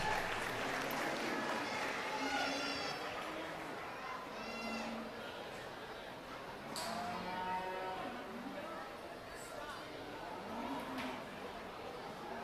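A crowd applauds Class 1 exhibitors at the Alachua County Youth Fair and Livestock Show in a soft, steady wash of clapping, while cattle moo repeatedly and a voice talks nearby.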